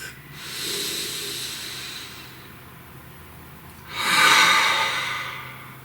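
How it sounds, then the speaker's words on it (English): Someone takes a slow, deep breath close to the microphone: a long, soft airy inhale swells and fades, and then a stronger, breathy exhale follows. Nobody speaks. "Please take a nice deep breath."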